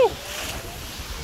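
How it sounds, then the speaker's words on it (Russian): Sea waves rolling onto the beach at Uchkuevka park near Sevastopol, Crimea, a steady broadband wash of surf with wind noise, fairly close and continuous, with no one speaking. "Волна наваливает, наваливает."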